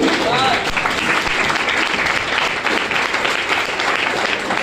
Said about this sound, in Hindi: जमींदारों के लिए जोरदार ताली होनी चाहिए।